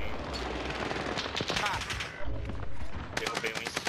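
Bursts of rapid automatic gunfire from a Call of Duty match ring out in quick clusters, loud and sharp, with a player talking between and over the shots.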